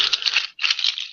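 A bright, dry clattering rattle of sheep's hooves from the Bolivian and Peruvian Altiplano, shaken in two quick bursts separated by a short pause, close and fairly loud.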